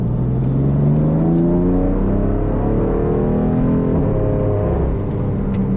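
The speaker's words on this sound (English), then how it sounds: "The valves open up to a point where you can hear the exhaust very well." BMW M3 with a valved exhaust under hard acceleration: a loud, continuous engine note climbs steadily in pitch for several seconds, close and with no talking.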